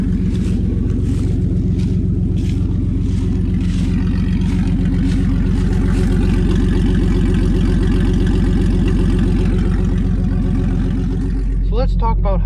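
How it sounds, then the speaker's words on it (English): Straight-piped GMC Sonoma pickup exhaust, a loud, throaty idle with steady low rumble throughout, rising into a short rev burst near the end. "As you can hear, it sounds like a small V8."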